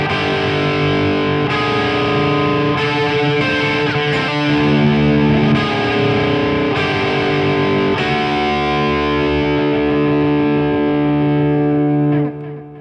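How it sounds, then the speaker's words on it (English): An electric guitar plays through a Blues Driver overdrive pedal into a Blackface Twin Reverb amp, giving a loud, distorted run of chords and notes that ends by ringing out and fading at the close. "just blues driver into a blackface twin reverb"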